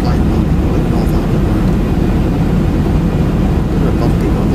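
A Ryanair airliner in a flight simulator game gives off a steady, loud engine roar and rushing wind that hold constant and close throughout.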